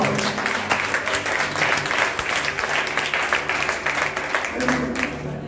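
A congregation at a French-language church service applauds with steady, dense clapping for about five seconds, with some crowd voices mixed in.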